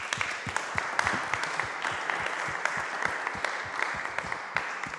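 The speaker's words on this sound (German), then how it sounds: "Einen Applaus." Applause from an audience in a lecture hall, a steady patter of many hands with sharp individual claps standing out close by, moderately loud and even for several seconds.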